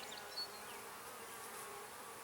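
Honeybees hum in a steady, faint, continuous drone around an open hive during a beginner's week-two inspection, with no voices.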